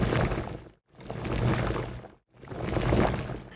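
Synthesized noise source in Serum whose level is pulsed by a slow LFO, giving three loud broadband hiss bursts that swell and fade, separated by brief near-silent gaps.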